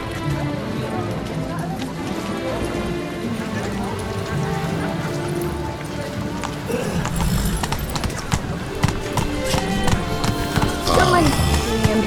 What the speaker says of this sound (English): I'm just gonna let my horse eat the shrubs.